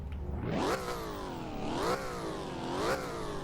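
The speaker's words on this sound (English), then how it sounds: "Go ahead and give her a nice little rev, just see how she goes." A show car's engine revs in a Roblox game, rising and falling in three distinct throttle blips over a steady idle, loud and alone with no talk.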